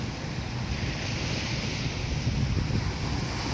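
Rough sea waves and gusting wind batter the microphone on a murky, choppy coast in bad weather, a dense continuous roar with no voices.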